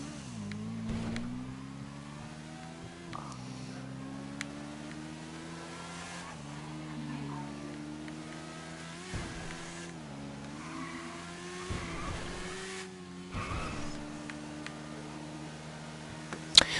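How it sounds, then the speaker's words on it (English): A motorcycle engine in GTA 5 drones and revs continuously with a deep, bass-heavy tone, the pitch rising and dipping with throttle changes, fairly quiet and steady with small bumps and clicks. "the bass in this motorcycle is crazy"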